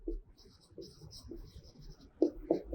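Chalk or a marker scratches across a classroom board during a fifth-grade maths lesson, a series of short close strokes with a couple of firmer taps near the end and no speech.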